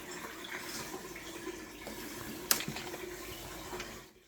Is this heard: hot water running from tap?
yes